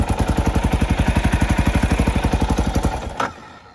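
A 1994 ATK 605 four-stroke dual-sport motorcycle engine, choke on, cranking over with a fast, even chugging pulse close by for about three seconds before it catches and cuts to a brief burst, no talk.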